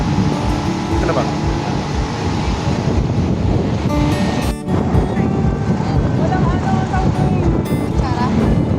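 Sea waves wash onto the shore at La Union in a continuous, loud rush, heavily mixed with wind buffeting the microphone, while voices talk over the surf.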